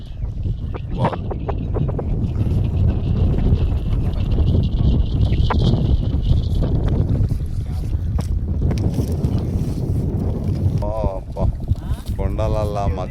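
Strong wind gusting between hills near a Vizag colony, a steady loud roar filling the whole stretch with continuous buffeting, while people talk over it throughout.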